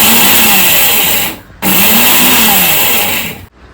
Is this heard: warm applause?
no